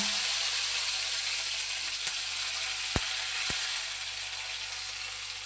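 Mustard seeds crackle and splutter in hot oil in a pan while lunch is cooked, a steady close sizzle broken by a few sharp pops and clicks, with no talking.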